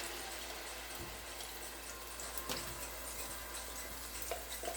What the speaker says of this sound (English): This gives them a little chance to saute here.